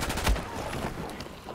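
Rapid bursts of gunfire in the Battlefield 4 video game, loud and close, with a sharp crack near the start and quieter shots trailing off.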